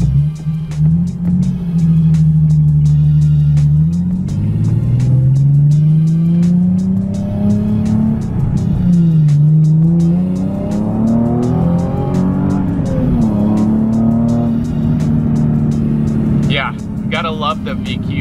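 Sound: car with Nissan VQ engine accelerating in a pull

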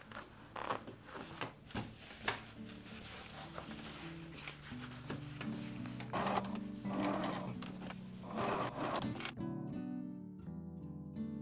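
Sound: sewing machine stitching down a zipper on a pouch

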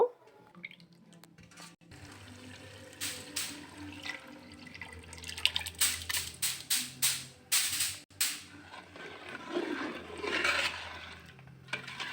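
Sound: soaked haleem mix poured into cooked meat

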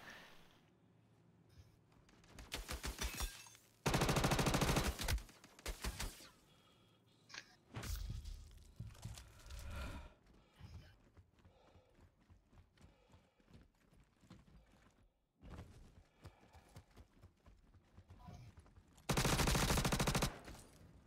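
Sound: gunshots in the video game Star Citizen Star Marine

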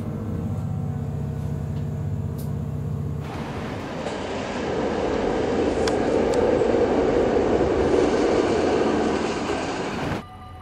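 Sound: NS-41 Blauwe Engel train

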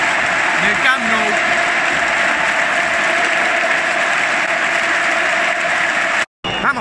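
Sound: stadium crowd ovation at Camp Nou

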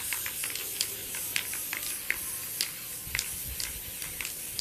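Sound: spraying Super Grip non-slip spray on a latch hook rug

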